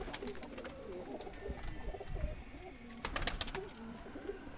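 Kasni pigeons coo in soft, repeated low calls at close range, mixed with rustling and scattered clatter from a loft or coop, with no voices present.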